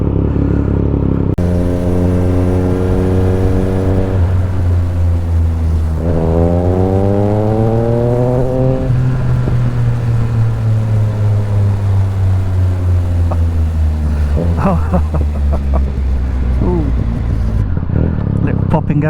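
A Triumph Speed Triple RS with an Austin Racing exhaust revs hard nearby, engine pitch climbing and falling in repeated throttle blips over a loud, rumbling idle.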